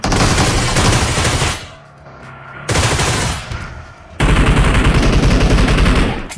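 Rapid automatic gunfire rattles loudly in a PUBG fight, coming in dense bursts separated by a quieter gap, with a grenade thrown in the exchange.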